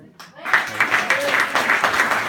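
Stand-up comedy audience applauding a comedian, a steady burst of clapping that begins after a brief quiet start and carries on evenly, with a voice faintly mixed in.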